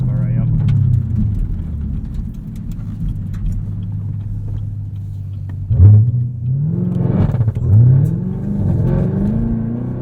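A 2022 Chevrolet Camaro ZL1 manual coupe revs hard against its traction limiter, the engine droning steadily and then surging in sharp stuttering pulls and cuts. It is heard up close from the cabin while people talk over it.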